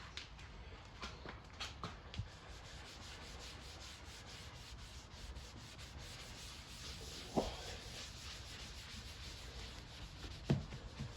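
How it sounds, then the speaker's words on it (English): A damp soft cloth rubbing lacquer repair product onto car paint, a faint, steady scrubbing swish repeated back and forth with a few louder knocks, without talk. "Chuck a bit on there and give it a rub."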